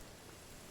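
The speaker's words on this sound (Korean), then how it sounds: "아, 비가 오네" Steady rain falling outdoors, a soft, even hiss of drops spread across the whole clip with a slight swell at the very end, no voices present.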